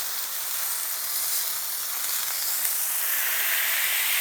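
Steady, bright sizzling of smashburger patties frying on a hot griddle fills the clip, a continuous crackling hiss with no voices.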